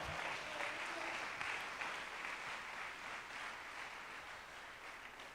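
A church congregation applauds during a Spanish-language service, a faint, distant, even wash of clapping that tapers slightly toward the end.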